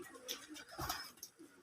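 Pigeons coo softly in a village setting, a few low burbling calls spread over a second or so amid faint chirps and quiet background noise.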